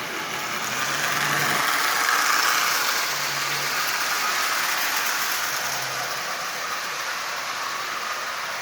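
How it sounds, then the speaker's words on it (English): A pre-war electric motor fitted in a Marx 1666 toy locomotive runs steadily with a broad, even whir and hum, close and continuous, with no talking. "that motor is running absolutely perfectly"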